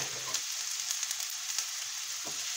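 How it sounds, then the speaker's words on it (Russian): Onions sizzle steadily in a hot pan, a constant crackling hiss with occasional small pops, close and moderately loud. "Пока жарится лук"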